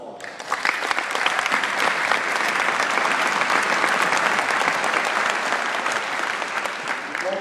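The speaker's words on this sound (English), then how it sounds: "let's give them a big round of applause" Sustained audience applause from a crowd seated on bleachers at a military welcome-home ceremony for the 3rd Sustainment Command, dense clapping steady and loud throughout without a break.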